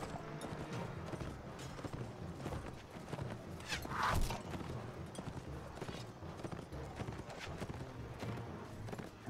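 Horse hooves beat in the medieval combat game Mount & Blade Warband amid a busy, faint battle mix. A brief louder rush or impact sounds near the middle.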